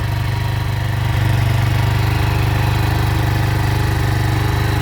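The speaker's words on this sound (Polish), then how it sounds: "Silnik chodzi bezszelestnie." A 2001 Kawasaki EL125 Eliminator motorcycle engine idles close by, a low, even rumble with a regular pulsing beat throughout, no voices.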